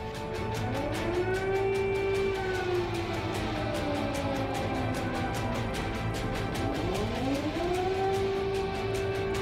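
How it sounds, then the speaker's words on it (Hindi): Civil defense air raid sirens in wartime Ukraine wail, rising and falling in long sweeping tones, several overlapping from different distances, continuous and steady over the whole stretch. "पूरा यूक्रेन युद्ध के सायरनों से गूंज रहा है"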